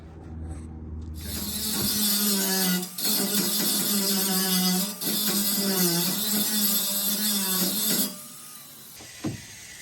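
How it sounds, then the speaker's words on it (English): A HYCHIKA 20V cordless angle grinder fitted with a grinding blade spins up to a loud, steady high-pitched motor whine, dips briefly twice, then winds down after about eight seconds, with a sharp click near the end. "Let's put a grinder blade on it, see how it does."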